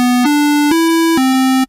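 A synthesizer oscillator plays a buzzy square wave as a loud, sustained tone that steps between a few nearby pitches, with brief clicks at each change before cutting off abruptly.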